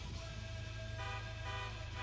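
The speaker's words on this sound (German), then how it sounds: "Ich will nicht wundern, dass ich die ganze Zeit hier hupe." Car horn in GTA Online honking in one long continuous blare with steady harmonic tone, loud and unbroken for the whole stretch.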